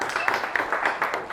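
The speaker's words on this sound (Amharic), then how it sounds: "ጎበዝ አጨብጭቡለት አንዴ" A small group applauding an instructor in a cooking competition, light scattered clapping at moderate distance, uneven and brief, with faint voices underneath.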